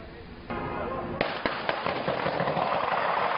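Sharp cracks of gunfire ring out during the final SWAT standoff at the Pulse nightclub in Orlando: several distinct reports at first, then a dense, continuous crackle of shots over a noisy background.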